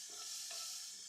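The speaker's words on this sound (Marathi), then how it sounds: "हे चांगलं असं सॉटे करून घेते" Masoor lentil vegetable sautéing in a hot pan, a steady close sizzle with faint stirring scrapes running throughout.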